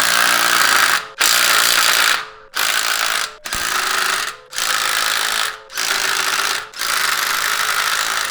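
An impact wrench drives Gorilla lug nuts onto a Hyundai Veloster N wheel in seven rapid hammering bursts, each about a second long and separated by brief pauses, loud and close.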